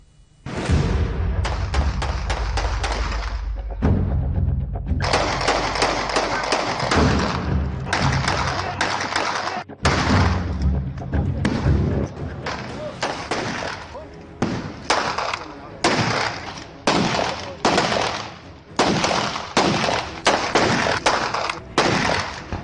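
Rapid bursts of gunfire crack out repeatedly in Uttar Pradesh, loud and dense at first, then breaking into separate shots and short volleys.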